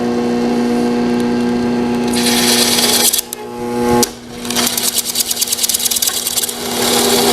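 A power drill bores holes through a wooden board used for an oak essential oil case, loud and near, with a steady whine that rises as the bit cuts, drops out briefly, then returns in sustained bursts.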